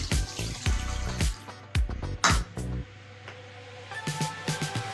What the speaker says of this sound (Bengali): এবার এতে দেব 1 বাটি দুধ